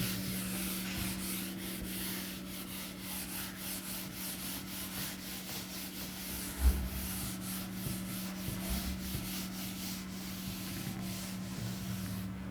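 Steady rubbing as writing is erased. The scratchy friction strokes repeat continuously for several seconds at close range, over a low background hum, with no speech.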